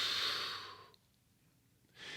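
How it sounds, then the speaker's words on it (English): A slow, soft breath during a breathing exercise with side bends: a long airy exhale fades out, a quiet pause follows, then a fresh inhale begins, close and gentle with no talking. "Inhale and side bend. Exhale and side bend."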